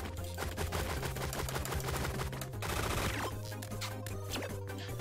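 Rapid gunfire from Relic Hunters Zero, a dense stream of sharp shots firing nearly nonstop for the whole stretch at a loud, steady level, layered over game music.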